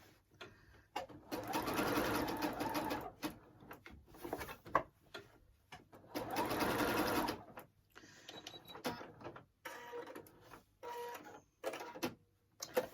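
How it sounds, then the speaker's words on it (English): A sewing machine stitches applique around a star while its knee lift is used, with two long bursts of fast mechanical whirring alternating with short stops, clicks and handling noises at close range. "back to the sewing"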